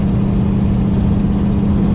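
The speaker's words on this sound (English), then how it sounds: "That exhaust leak's terrible." A loud, steady engine drone with a rough, rumbling low buzz runs continuously from a 1955 Buick Roadmaster cruising with a leaky exhaust.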